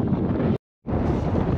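Strong wind roars steadily across the microphone while kayaking on a lake near Schwerin, a loud, broadband buffeting that cuts out briefly in the middle and then resumes.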